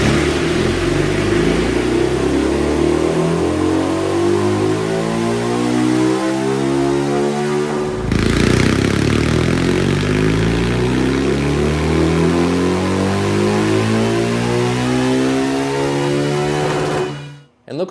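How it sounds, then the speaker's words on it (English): A 2023 BMW R nineT with a tuned boxer engine revs hard on a dyno, a loud sustained rising roar that drops briefly midway, climbs again, then cuts off at the end. "I think she's ready to go back in the dyno again, and we're gonna see if we can make any bit more power"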